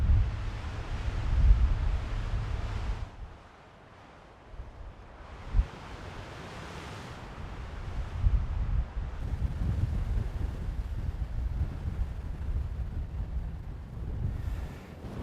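Gusting wind on an Arizona hillside during an elk hunt, roaring across the microphone in loud, uneven bursts with a brief lull early on, then steady buffeting to the end.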